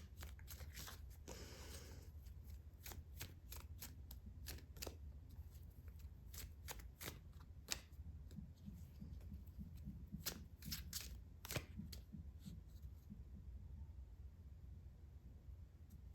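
Tarot cards are shuffled close by in a quiet room, with repeated crisp riffles and sharp card snaps scattered irregularly over a long stretch, and no talking.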